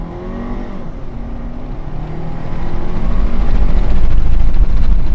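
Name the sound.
2-liter turbo car accelerating in sport mode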